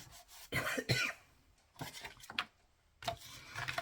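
Several harsh coughs in short bursts, close and fairly loud, separated by brief pauses.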